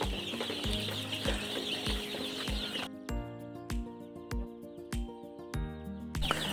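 Chickens on a poultry farm cluck and squawk in a steady chorus, with repeated sharp calls rising over the busy flock noise throughout.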